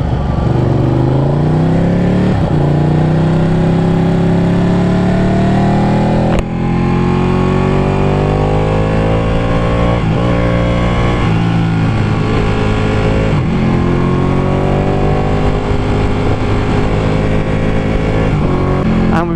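A Ducati 899 motorcycle accelerates hard on a test ride, its engine loud and close, climbing through the revs with brief dips at each gear shift across one continuous run.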